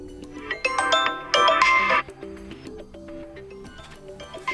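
Ringtone on a Vivo Y33S phone playing a melodic tune of bright tones, jumping louder for a moment and then dropping quieter as the ringtone volume is adjusted.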